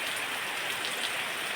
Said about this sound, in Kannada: ಇವತ್ತು ಬೆಳಿಗ್ಗೆನೇ ಮಳೆ ಬರ್ತಾ ಉಂಟು